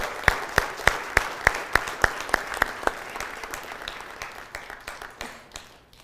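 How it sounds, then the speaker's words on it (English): An indoor audience applauds a book unveiling at a conference on global terrorism. Loud, steady claps carry a brisk even rhythm that gradually thins and fades out. "Ladies and gentlemen, a big round of applause."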